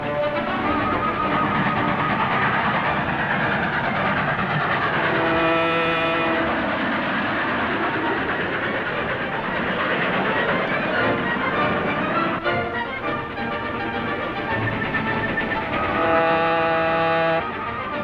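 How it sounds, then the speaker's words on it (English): A train running on rails in a 1940 serial, a steady loud rolling rumble with rhythmic clatter and harmonic tones that carries on throughout. "Follow the train."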